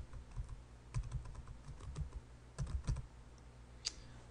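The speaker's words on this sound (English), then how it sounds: "you go to Google, for instance, and you type in" Computer keyboard keys being typed as a Google search is entered: quick, irregular bursts of close, light clicks with short pauses between them.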